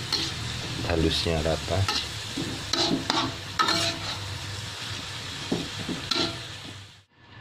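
Cabbage and egg filling sizzles steadily in a frying pan while being stirred continuously, with spatula scrapes and taps throughout. A voice talks briefly over it near the start.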